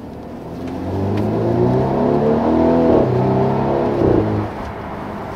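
A 2018 Mercedes E-Class AMG coupe engine, in Sport Plus mode, revs up and holds a rising, throaty roar for a few seconds before settling back, loud and close with no talking.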